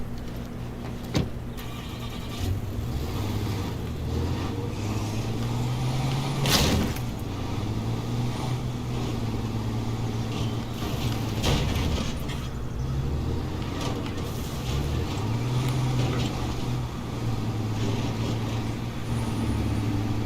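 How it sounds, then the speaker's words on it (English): A truck driving in the video game State of Decay 2, its engine droning steadily at moderate volume with rising and falling revs and occasional clunks, no voices. "he might hear the truck"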